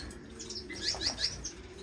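Pet finches and a canary chirp softly indoors, giving a few quick high tweets in a short cluster over faint room noise.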